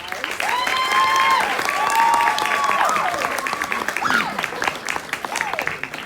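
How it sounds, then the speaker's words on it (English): Audience applause at a stage play, steady and full for about six seconds, with cheering voices and whoops rising over the clapping. "A big round of applause."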